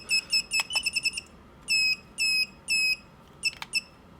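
Shrill electronic beeps from an Eachine Novice-II drone sound in bursts, first quick chirps, then three longer loud tones and a final short pair, piercing and close.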